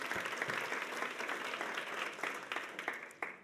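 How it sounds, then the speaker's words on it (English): A crowd at an awards ceremony applauds steadily, a dense patter of many hands clapping at once, fairly close and continuous with a few sharper claps standing out. "Round of applause."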